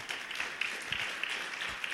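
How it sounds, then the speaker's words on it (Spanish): A church congregation claps together through a worship service, the sound fairly soft and dense with faint rhythmic accents and no speech over it. "Te damos, Señor, un aplauso."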